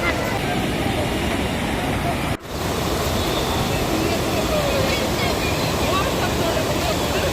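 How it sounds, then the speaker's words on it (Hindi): A waterfall at Chitrakoot pours steadily in a loud, unbroken rush close by, with water falling on all sides and one brief dip in the roar. "चारों तरफ झरने से पानी आ रहा है।"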